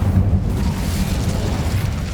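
Incendio fire spell cast in Hogwarts Legacy, a loud, steady low roar of conjured flame that holds for about two seconds, with no voices.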